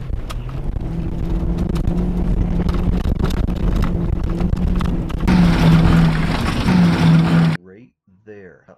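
A Mercury Grand Marquis eases down a hill with traction control off. A steady engine drone runs under heavy wind buffeting, grows louder near the end, then cuts off and a voice follows briefly.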